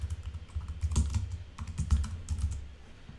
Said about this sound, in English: I can just type in the answer